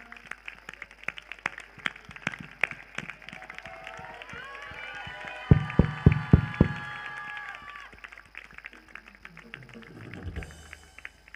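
Scattered hand claps from a congregation at a Christian prayer meeting, loosening into a brief burst of louder clapping midway before fading, with voices and music underneath.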